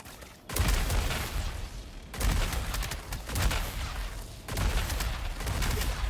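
A Fresnel Volt LMG in Star Citizen fires in three long, dense bursts of rapid gunfire, loud and close, separated by short pauses.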